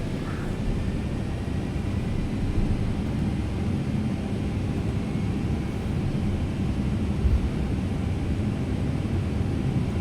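Jet engines of a TFDI MD-11F cargo freighter spooling at takeoff thrust in a flight simulator, a steady, loud low roar filling the cabin continuously without change.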